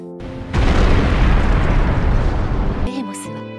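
A sudden loud blast opens into a long roaring rumble that holds for a couple of seconds, with a musical, dramatic backdrop before and after.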